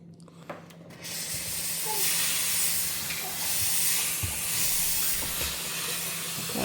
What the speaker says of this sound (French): Non, mais il y a de la vapeur, la gang.